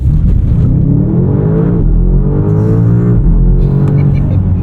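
A 2025 BMW M5 launching hard under launch control, its engine roaring loud and close as it accelerates with rising tone throughout, with people talking over the engine noise.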